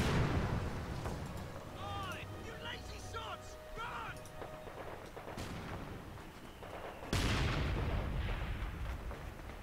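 Mortar artillery fires in a Company of Heroes 2 four-versus-four battle, with booming blasts and rolling rumble, one at the start and a sharper one later, while a voice talks in between over a steady battlefield din.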